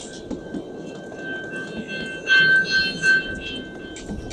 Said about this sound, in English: And I'm now returning on the train.